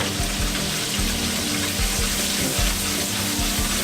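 Meatballs in marinara simmer in a pan on a home stovetop, giving a steady, close bubbling and sizzling hiss with soft low pops and burbles throughout, no talking over it.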